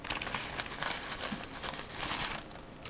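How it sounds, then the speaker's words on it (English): Crushed candy canes for peppermint bark are sprinkled from high up, giving a faint, continuous light patter and crinkle of small hard bits falling onto a surface for a few seconds. "So it's raining candy canes."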